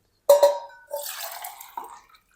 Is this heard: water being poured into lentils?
yes